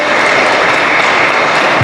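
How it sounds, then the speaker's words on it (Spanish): A church congregation claps together in sustained, dense applause, a steady close wash of hand claps with no pauses throughout. "¿No le pueden regalar un aplauso al Señor por eso?"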